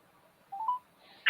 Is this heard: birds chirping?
no